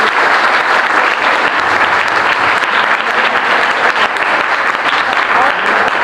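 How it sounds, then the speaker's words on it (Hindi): A school audience at a junior high school seminar on Mahatma Gandhi claps loudly and continuously, a dense, sustained wash of many hands that fills the whole clip. "जोरदार तालियां बजाइए"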